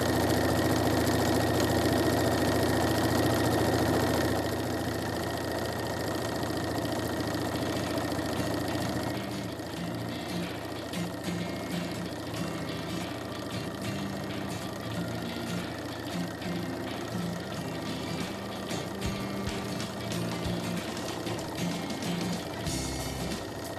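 A sewing machine stitches patchwork for a bread basket, running with a steady mechanical hum and a rapid rhythmic knocking drone that continues throughout, close by and with no talk.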